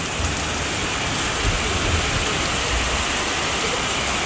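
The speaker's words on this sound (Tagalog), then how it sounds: "Grabe po ang lakas ng ulan." Heavy rain pours down steadily at close range, a dense unbroken hiss of drops hitting surfaces with a low rumbling undertone throughout.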